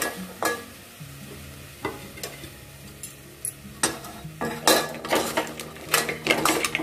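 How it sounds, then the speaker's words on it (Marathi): Crabs are dropped into hot garam masala and fry, sizzling softly while a spoon stirs and scrapes against the pan in repeated bursts that grow busier toward the end. "त्यानंतर हे खेकडे घालायचे."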